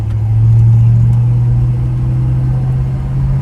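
A 1965 Ford Ranchero pickup driving at a moderate pace, its engine a loud, steady low drone heard from inside the cab, with no talk.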